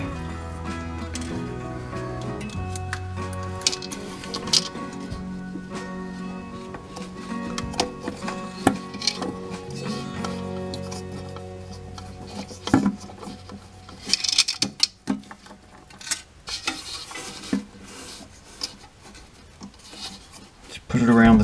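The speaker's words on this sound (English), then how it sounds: "I'm gonna go and put this new flapper on and that should cure the problem here" Plastic and rubber rub and scrape inside a toilet tank as a new flapper is fitted onto its hooks, with intermittent clicks and handling noises throughout and a person speaking briefly.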